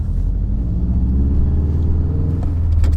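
A car engine while driving, a steady low rumble with road noise throughout, close and even, no talking.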